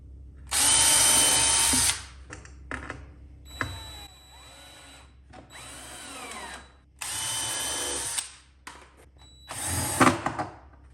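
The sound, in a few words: power drill pre-drilling wood for chicken tractor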